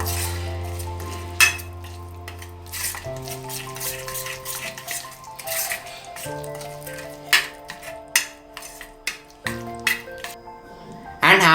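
A spoon stirs and scrapes through a paneer mix with garam masala and cumin powder in a bowl, giving irregular clinks and soft scrapes close by, with faint tonal sounds in the background.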